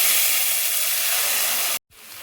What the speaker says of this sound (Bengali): এবার দেখো কড়াইয়ে আমি ঢেলে দিচ্ছি